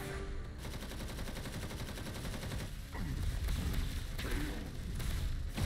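Sustained gunfire from a Halo TV series battle scene, dense rapid bursts of automatic shots layered with loud action-scene noise throughout.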